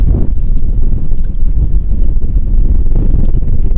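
Strong wind buffets loudly and continuously, a dense low roar that rumbles without pause.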